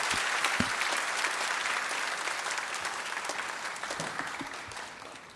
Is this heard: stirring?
no